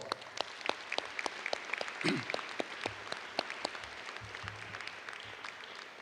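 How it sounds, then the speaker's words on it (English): Scattered applause at a high school commencement in a large hall, sparse and uneven, with distinct individual claps standing out over a thin background and occasional low thuds. "Let's give them a round of applause."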